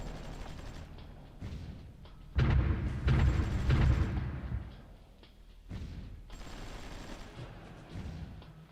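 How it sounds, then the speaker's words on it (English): Artillery fire in the strategy game Supreme Ruler Ultimate: a steady mid-level rumble of distant shelling, broken by a dense, heavier cluster of booming blasts in the middle before the barrage eases back down. "our artillery is having a field day here"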